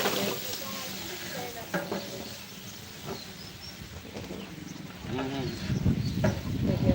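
Vegetables go into a large pan and fry with a steady hiss and sizzle, with stirring scrapes rising toward the end, while someone speaks over the cooking.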